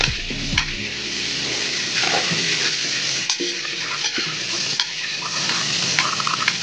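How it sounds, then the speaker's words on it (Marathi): Seven or eight garlic cloves and curry leaves fry in hot oil until crisp, giving a close, continuous sizzle broken by sharp scraping taps as they are stirred around the pan. "हे दोन्ही आपल्याला क्रिस्प होईपर्यंत छान परतून घ्यायचं, तळून घ्यायचं."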